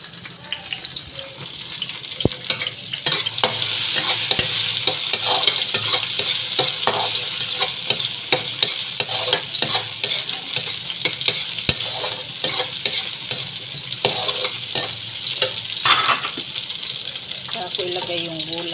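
Shrimp and vegetables sautéing in a pan, a loud continuous sizzle with constant stirring and clattering of a utensil, close up throughout.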